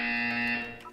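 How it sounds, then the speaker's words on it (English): A loud, steady electronic buzzer from the video game Portal 2 drones with a harsh, sustained tone that fades slightly near the end of a one-second burst. "When you hear the buzzer, look down at the floor."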